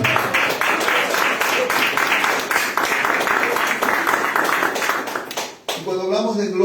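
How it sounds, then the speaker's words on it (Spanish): Church congregation applauding during a service, dense sustained clapping for several seconds that fades out before a voice begins speaking. "Un aplauso al Señor"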